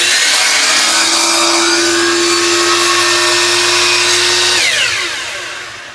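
Power saw making a 30-degree angled cut through a piece of wood for a hexagon; a loud, close, sustained whine with a steady tone that holds for nearly five seconds before spinning down.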